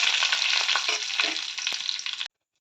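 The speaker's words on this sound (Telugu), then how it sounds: "ఎండుమిర్చి వేసుకోవాలి. ఒక నిమిషం ఫ్రై అవ్వాలి." Dried red chillies fry in hot oil for rasam, giving a continuous bright sizzle with light stirring scrapes close up, cutting off abruptly at the end.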